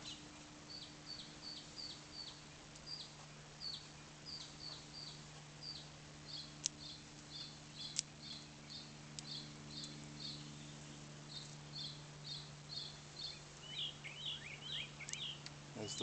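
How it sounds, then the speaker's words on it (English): Small birds chirp and sing in repeated short bursts outdoors in the early morning, moderately distant, over a steady low hum, with no talking. "As the birds serenade me."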